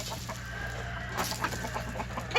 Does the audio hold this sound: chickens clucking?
yes